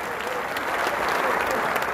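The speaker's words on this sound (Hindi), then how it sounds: "इनके लिए जोरदार तालियां।" A crowd at the International Jat Parliament gives loud, sustained applause in honour of the elders, a dense, unbroken wash of clapping across the brief moment.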